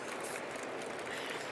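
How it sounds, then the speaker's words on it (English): Steady audience applause fills the room at a climate-focused conference session, a continuous dense wash of clapping at moderate distance with no pauses. "Yeah, go on, give it a round of applause."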